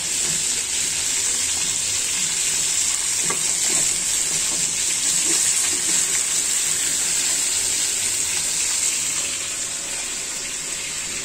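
A fish head fries in a pan on the stove, a loud, continuous close-up sizzle with faint spatters that runs unbroken throughout.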